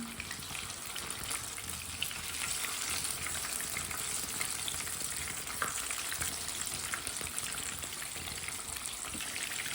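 Fish fillets frying in a pan give a steady, close crackling sizzle that runs unbroken for the whole stretch, with faint scrapes mixed in and nobody talking.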